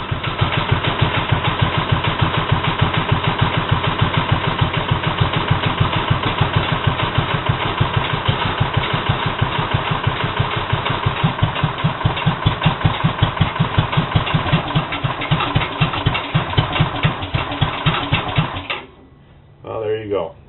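A cold-started engine idles very low and steady, its firing pulses thumping in a regular slow rhythm for most of the stretch, then cutting out abruptly near the end before a brief faint return.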